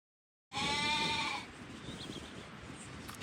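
A sheep in the video game Waterpark Simulator gives one loud, drawn-out bleat lasting about a second, then fades into a low background hum.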